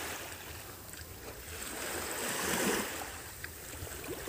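Calm sea waves on a sunny day off Cebu wash in as a faint, even hiss, gently swelling and receding in the distance with no voices.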